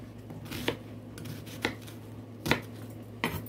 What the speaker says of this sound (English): I gotta cut the onion up right now